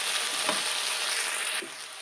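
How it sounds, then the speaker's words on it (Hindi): Finely chopped garlic sautéing in a pan for a Sindhi masala fish, giving a steady close hiss and sizzle that drops slightly near the end. "1 मिनट तक हम लहसुन को सौते करेंगे।"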